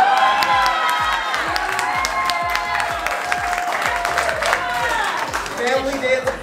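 Applause and cheering fill a holiday party, with dense clapping, whoops and crowd voices carrying steadily throughout at close, loud level.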